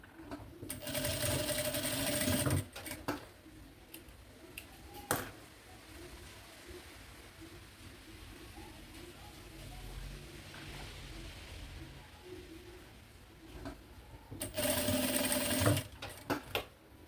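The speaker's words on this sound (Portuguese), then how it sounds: "a gente faz assim e passa um pezinho de máquina aqui. Dos dois lados." Sewing machine stitching a fabric maternity bag, two loud, close bursts of steady rapid motor whirring, one at the start and one near the end, with quiet handling between them.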